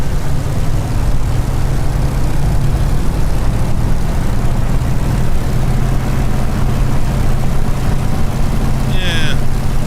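A Spitfire warbird's engine runs up in Microsoft Flight Simulator as a loud, steady, continuous drone with a constant low rumble and broad hiss, sustained with no break.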